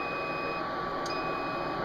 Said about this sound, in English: there's my alarm there